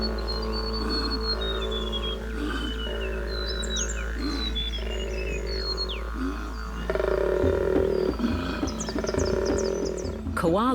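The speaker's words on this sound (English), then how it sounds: "Koala males make this reverberating noise by inhaling and exhaling at the same time." A male koala bellows a deep, reverberating roar, made by inhaling and exhaling at once, in continuous grunting pulses amid bird calls in Australian bush, loud and sustained.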